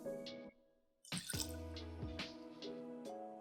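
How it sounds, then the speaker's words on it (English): Half an ounce of lemon juice pours into a zero-proof pea and yogurt cocktail: a short, close liquid splash and trickle follows a brief pause, with drippy bursts continuing to the end. "Next, I'm going to add a ½ ounce of lemon juice"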